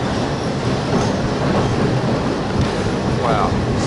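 A passenger train rolls along the line toward the Bridge on the River Kwai, with a loud, constant rumble of wheels on rails and faint clickety-clack running through the whole stretch.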